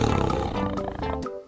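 A tiger in a 3D animal video game gives a loud, rumbling roar up close, heard alone for just over a second before it cuts off sharply.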